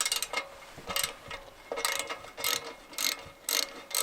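A ratchet clicks in short repeated bursts while backing out half-inch bolts from the rear of a Cobra motorcycle exhaust on a Road Glide Special, close and fairly quiet, with no talking.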